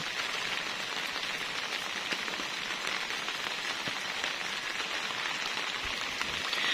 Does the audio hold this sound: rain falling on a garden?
yes